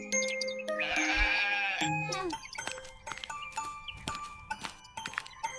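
A goat bleats loudly and clearly in one long wavering call, followed by scattered clinks and small knocks around a village farm.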